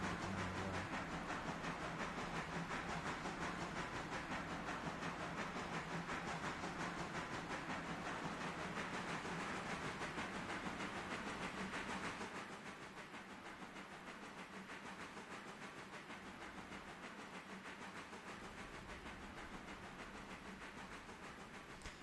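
A train engine hisses at an interchange with a faint, steady rush of steam. The hiss drops to a softer level partway through and carries on alone.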